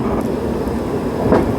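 A passenger train hauled by a WAP 7 locomotive rolls past, its first AC coach going by, heard as a loud, steady close rumble with faint rail clatter and a brief swell near the end.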